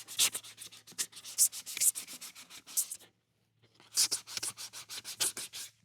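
Sandpaper of 220 grit rubs back and forth over plastic in quick, rhythmic close strokes, two bursts of scratchy sanding separated by a short pause, fairly quiet and with no speech.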